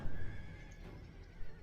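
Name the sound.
horses neighing in a video game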